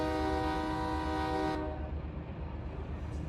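A freight locomotive in the Run 8 train simulator sounds its horn at a whistle board while hauling a long intermodal train. The loud, sustained chord lasts about a second and a half, then cuts off, leaving the rolling rumble of the train.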